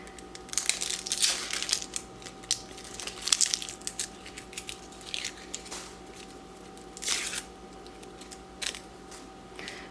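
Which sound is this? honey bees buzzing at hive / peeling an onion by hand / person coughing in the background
peeling an onion by hand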